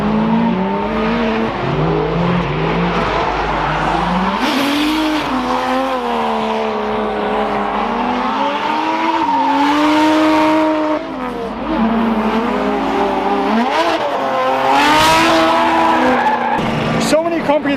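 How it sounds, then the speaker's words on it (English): Cars drifting at a GridLife South motorsport event, tires squealing with sweeping, wavering pitch and engines revving loudly and continuously nearby, with a crowd and talk mixed underneath. "now we're gonna go check out some drifting"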